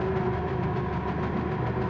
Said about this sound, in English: Engine revs rising.